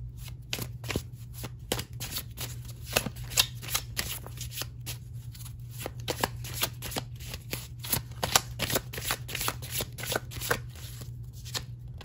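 Oracle cards being shuffled in a steady run of crisp riffling flicks, close and fairly quiet, with a low constant hum underneath and no talking.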